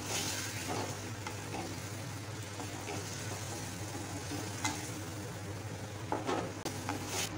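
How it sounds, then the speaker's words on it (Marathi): Paneer cubes frying in two spoons of oil in a kadhai for paneer rolls: a dense, steady close sizzle with occasional stirring scrapes, no talking. "कढईमध्ये 2 चमचे तेल टाकून मिक्स करून ठेवलेलं पनीर टाकायचं"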